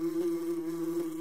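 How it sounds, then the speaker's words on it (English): A wasp gives a steady, continuous buzzing drone, close and even in loudness throughout, with no other sounds. "Wasp."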